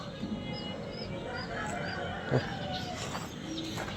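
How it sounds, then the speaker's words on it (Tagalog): Two pigeons in a cage cooing softly among faint chirps and background hum, with a brief knock partway through. "Dalawang kalapate."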